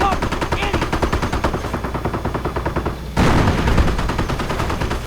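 Machine guns fire on tanks in a WWII video game battle: loud, continuous rapid bursts with a steady rattling rhythm, and a heavier burst joins partway through.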